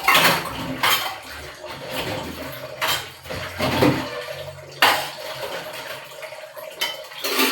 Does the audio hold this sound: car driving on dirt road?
no